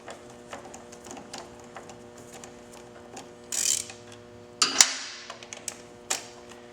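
An 8mm Allen wrench loosens brake caliper bolts during a front air ride installation, producing sparse mechanical clicks and ratcheting ticks with two brief louder scraping bursts, close and fairly quiet.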